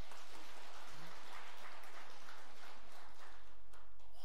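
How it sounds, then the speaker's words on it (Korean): Audience applause after a mixed choir sings at a Buddhist temple Dharma gathering, a dense, muffled patter of clapping heard at a distance with low rumbling underneath. "박수 한번 보내드리세요."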